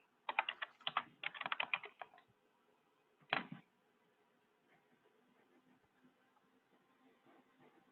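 Quick bursts of typing on a computer keyboard while entering a search, two clusters of rapid, close key clicks followed by a single short flurry, then near quiet.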